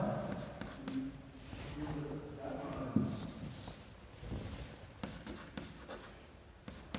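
Chalk or marker scratching across a classroom board in short strokes and taps as a teacher writes out a heading, with the teacher talking over the writing.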